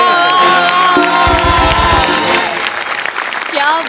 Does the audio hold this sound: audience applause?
yes